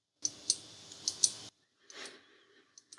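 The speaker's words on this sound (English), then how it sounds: "the trigger one is clicking as it should" Trigger switch on a Daystate Pulsar air rifle being rebuilt, a series of faint, sharp, close clicks in small clusters separated by quiet gaps.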